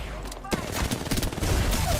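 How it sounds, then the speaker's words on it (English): Rapid bursts of gunfire in an Apex Legends match, dense overlapping shots rattling through most of the stretch, with a sharp onset partway in and a voice briefly speaking beneath. "Getting shot at."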